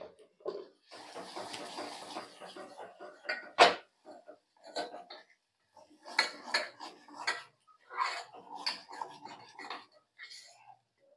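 Spices being stirred in a cooking pot while preparing mutton, with a spoon scraping and clinking against the metal in short bursts, one sharp knock standing out, and soft clatter scattered throughout.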